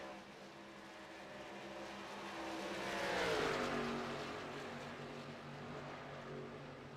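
Several race cars pass on an oval track during a broadcast race, engine roar swelling to a close peak mid-pass with a pitch drop, then fading back into the steady drone of the pack.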